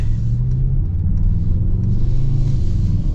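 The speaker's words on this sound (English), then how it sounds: "Oh man, the engine response." Deep, steady rumble of a 2026 Mercedes-AMG GLE 63 S V8 under load, heard from inside the cabin as a loud, continuous low drone with no speech over it.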